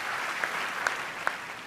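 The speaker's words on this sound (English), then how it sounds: "She claps her hands at her seat." Steady applause from an audience at the Screen Actors Guild Awards ceremony, a dense wash of clapping with a few sharper individual claps standing out.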